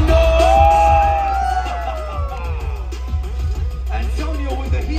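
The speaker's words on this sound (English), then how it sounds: "Let's make sure we scream at our loudest when they're in the air." At an extreme weekend motorcycle and car drifting show, a loud crowd whoops, yells and screams together, with overlapping shouts and a high whistle-like cry near the start, keeping up a dense roar.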